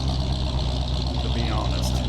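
A tractor engine idles in a 1986-era farming video game, a steady low mechanical rumble with a continuous drone that holds evenly across the short stretch.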